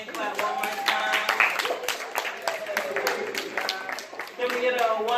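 Hand clapping from a live audience at a dating event, continuous and busy, with voices and chatter running over it throughout.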